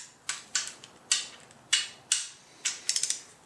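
Ratchet wrench run down on E8 Torx cylinder head bolts during an M52/M50 head gasket install: sharp bursts of clicking, about eight quick pawl runs in close succession, near and fairly loud with no talk.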